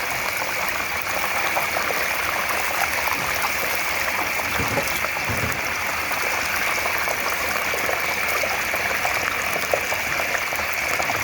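Oil bubbles and churns in an outdoor turkey fryer pot, a steady close rushing fizz that continues evenly for about eleven seconds, with no talking.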